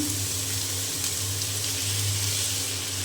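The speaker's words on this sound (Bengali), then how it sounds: "তো আমার তেল গরম হয়ে গিয়েছে, এখন আমি যে আলু" Potatoes fry in hot oil in a pan, giving a steady, even sizzling hiss that stays close and unbroken throughout, with no voices.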